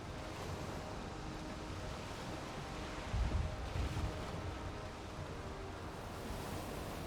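Steady wind and rolling ocean surf while sailing a boat in Valheim, a continuous broad rush with a slight swell near the middle and no voices.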